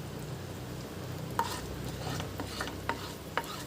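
Curry leaves and hing being lightly stirred in a low-flame tadka in a pan, with a faint steady sizzle and a few soft spoon scrapes against the metal.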